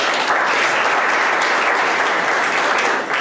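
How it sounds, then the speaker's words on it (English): A university lecture audience applauding, dense and loud clapping that holds steady for a few seconds before tapering at the very end. "So I like to give a round of applause for these guys."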